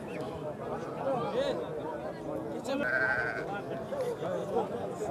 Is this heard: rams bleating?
yes